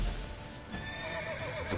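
Roach, the horse in The Witcher 3, gives a whinny with a wavering rise-and-fall pitch over a steady background of game ambience, close and clear, with hoof clops faintly mixed in.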